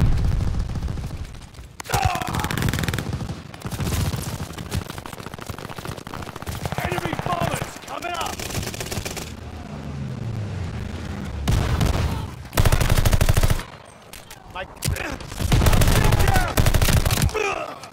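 Loud automatic gunfire in Call of Duty Vanguard multiplayer, rapid bursts repeating throughout with short gaps between volleys, explosions mixed in, and someone talking over the action.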